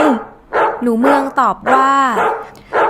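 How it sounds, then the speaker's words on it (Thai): A dog barks in a house during a spoken fable, the barks and yips mixing with a storyteller's voice and sounding close and fairly loud. "ขณะนั้นหนูนาได้ยินเสียงหมาเห่า"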